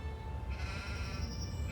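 A sheep bleats in a pasture in the video game Gothic 2, a wavering nasal call in the middle of the clip over a low steady ambient rumble.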